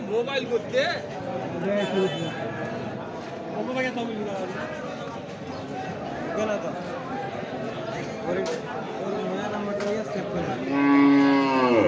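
Crossbred cattle at a busy rural livestock market low and moo repeatedly over constant crowd chatter, with a loud close moo near the end.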